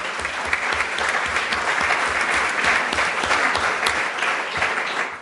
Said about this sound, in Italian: direi un applauso per la cosa.